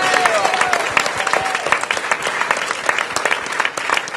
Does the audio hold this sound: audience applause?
yes